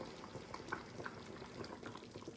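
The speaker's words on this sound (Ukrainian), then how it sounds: "булька як кипить" Gravy for stuffed peppers bubbles as it boils in a pot, soft irregular pops and blips over a faint simmering hiss, quiet and close with no talking.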